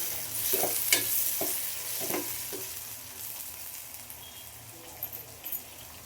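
Onion and tomato frying in a pan for a soya chunks gravy, a continuous sizzle broken by several stirring scrapes and clacks early on, close and moderately loud.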